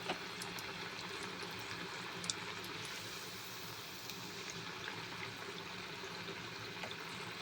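Karam chala gurtulu, a Sankranti sweet, frying in hot oil, a steady soft sizzle and bubbling that holds evenly throughout with a few faint pops and no talking.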